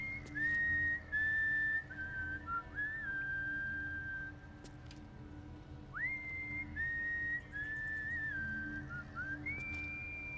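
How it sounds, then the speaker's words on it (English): A character in Baldur's Gate 3 whistles a clear, sustained melody made of long held notes and sliding phrases with short pauses between them. A faint low game ambience hums underneath. "now Madara is mad good at whistling"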